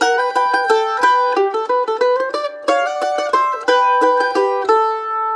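Melody played on a stringed instrument with harmony double stops, clear plucked notes moving in a steady line with two-note chords ringing together, bright and close with no talking.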